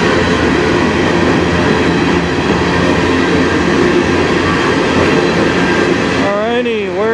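CN potash freight train passing on the Strathroy Subdivision, with CN 3072 as lead locomotive and CN 3067 at the rear, a loud continuous rumble of wheels and cars rolling close by, ending with wavering wheel squeal.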